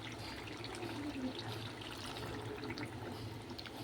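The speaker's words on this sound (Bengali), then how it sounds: "এবার আমি পরিমাণ মতো জল দিয়ে দেব।" Water pours into a pot of Bengali-style chicken curry with potatoes, a steady liquid splash and trickle running close and continuous without a break, with no voices over it.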